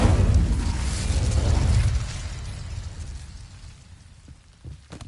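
The Incendio fire spell in Hogwarts Legacy, a loud whooshing burst of flame with a deep rumbling roar that fades over a few seconds, followed by faint crackles.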